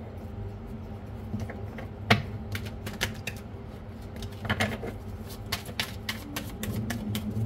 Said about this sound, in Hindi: थोड़ा शफल कर लेते हैं अच्छे से।